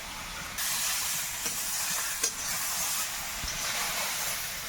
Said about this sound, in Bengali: খুব সুন্দর ভাজাটা হচ্ছে জ্বলছেও তো সেরকম গনগুনে আগুন